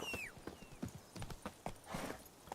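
Roach, a horse in The Witcher 3, gallops with a steady clip-clop of hooves, a brief whinny and faint game sounds around it, with no talk.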